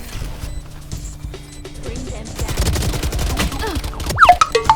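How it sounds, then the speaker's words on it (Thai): A full magazine is emptied in Valorant, rapid bursts of gunshots that build into a loud fusillade, with game effects and faint voices around them. "ยิงจนหมดแม็กเขาก็ไม่ตาย"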